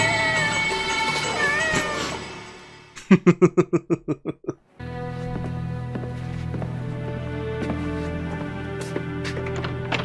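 A cat meows in an X-Files episode, a loud, drawn-out, wavering cry near the start, followed by a quick run of rhythmic knocks, then a steady background hum with scattered faint sounds.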